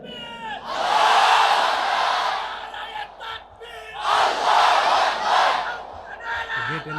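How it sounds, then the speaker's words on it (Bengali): A large religious gathering at a Bangladeshi waz sermon shouts the takbir in unison, two loud, sustained massed roars with a short lull between them, followed by a brief quieter voice. "সবাই একটা তাকবীর দেন, লিল্লাহি তাকবীর।"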